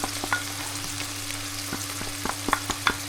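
Salt, pepper, herbs and spices sizzle in a hot pan for chili, a steady close frying hiss broken by small crackles and stirring taps, with no talk.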